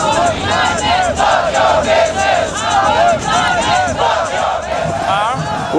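Large crowd at a peaceful street demonstration for climate and power reform, many voices shouting and chanting together in a dense, continuous roar that holds steady throughout.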